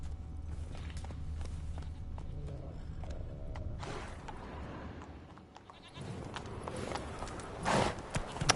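Horse hooves trotting in The Witcher 3, a clip-clop of hoofbeats against ambient game sound with no talk, building to sharper, louder impacts near the end.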